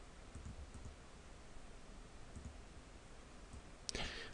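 Faint, sparse mouse clicks on a computer, a few soft ticks scattered over quiet room noise, ending with a sharper, louder click.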